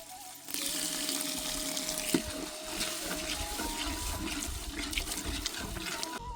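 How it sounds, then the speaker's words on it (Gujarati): A glass of water is poured into a pan of peas cooking in gravy, a continuous close splashing pour that runs for several seconds with small gurgles, and no talk. "વટાણાને આપણે બાફવા માટે એક ગ્લાસ જેટલું પાણી અંદર ઉમેરશું"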